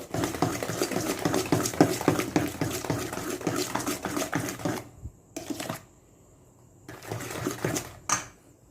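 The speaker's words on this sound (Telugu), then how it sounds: "ఇది కంప్లీట్గా బీట్ చేయడం అయిపోయిందండి" Eggs being beaten into a wheat flour batter in a bowl, a fast steady whisking clatter that runs loud for several seconds, then stops and returns in short bursts, with no talking.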